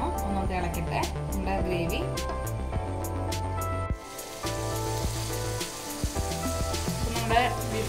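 Beef and potatoes sizzle steadily as they fry in a pan, with occasional stirring, under continuous background music.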